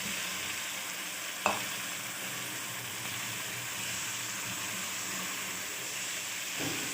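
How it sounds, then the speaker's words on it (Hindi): Fried potatoes sizzle while being sautéed in red masala for Kashmiri dum aloo, a steady close frying hiss throughout, broken by a single sharp clink of a spoon early on and a softer scrape near the end. "और अब आलूओं के साथ हम अच्छी तरह भुनाई करेंगे ताकि ये सारा मसाला आलूओं में भी रस बस जाए"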